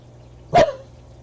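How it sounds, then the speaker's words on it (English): A single sharp bark from an indoor dog, half blind, reacting to sounds outside a window, close and clear against a quiet room with a low steady hum. "He spends most of the day sitting there listening and barking out the window, which is what he's doing right now."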